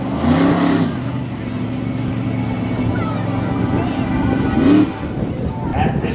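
A monster truck engine roars loud and close throughout a race, holding a steady heavy drone with sharp revving surges near the start and again toward the end.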